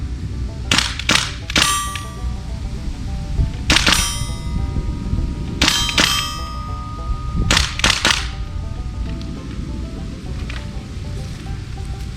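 A WE-TECH GBBR open-bolt M4 airsoft gun firing, with a handful of sharp metallic cracks, some in quick doubles, spaced irregularly over a steady outdoor background, moderately close.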